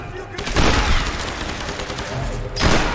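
A shotgun loaded with fire shells in Tomb Raider: two loud, roaring blasts with a fiery crackling rush sustained between them, close and dominating.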